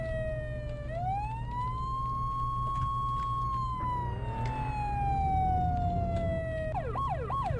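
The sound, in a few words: emergency vehicle siren in video game Flashing Lights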